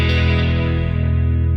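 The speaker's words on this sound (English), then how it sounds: "Really great sounding delay too." Sustained guitar tone shaped by an OBNE Parting delay and reverb pedal, a thick, distorted, shimmering wash of repeats that rings loudly and slowly fades its upper harmonics.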